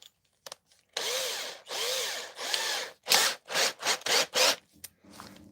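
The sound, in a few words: steel file spun in a drill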